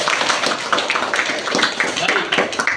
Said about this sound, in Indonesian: Beri tepuk tangan kepada Habibi.